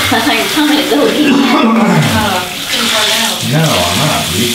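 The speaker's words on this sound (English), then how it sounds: "That's like the first time I've given a monkey a bath." Tap water running and splashing while a monkey is bathed, a loud steady flow under animated voices and squeaky chatter nearby.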